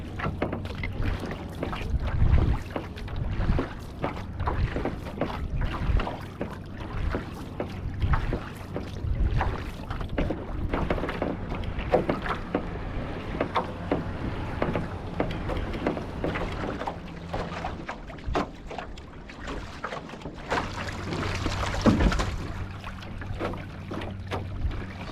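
Paddling a Draco OC-1 outrigger canoe across flat water, with steady rhythmic paddle strokes and water rushing past the hull under constant wind noise, close and fairly loud, no talking.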